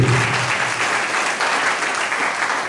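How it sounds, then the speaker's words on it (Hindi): A congregation claps loudly and steadily at a church worship service, a dense continuous wave of applause that starts at full strength and holds for the whole stretch. "और जोरदार ताली बजाएंगे इस मसीह के लिए।"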